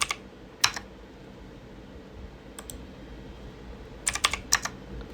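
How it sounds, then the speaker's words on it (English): Bursts of keystrokes on a computer keyboard while entering a dimension in SolidWorks CAD software: a single click near the start, a brief tap midway, then a quick cluster of several clicks toward the end, close and crisp over a quiet room hum. "so I'm gonna type in 35."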